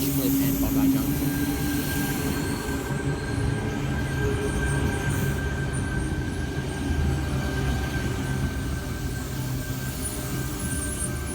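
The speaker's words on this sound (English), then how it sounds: "We have got a Tangara departing platform number 3, Bondi Junction service." A Sydney Tangara electric train departs platform 3 on a Bondi Junction service, a steady rumbling drone of motors and wheels on rails with a thin sustained whine, heard continuously from the platform at moderate level.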